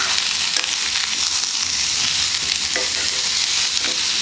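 Pumpkin curry with curry leaves and chilli sizzles steadily in a pan, a dense, even hiss with faint stirring scrapes running throughout, no voices.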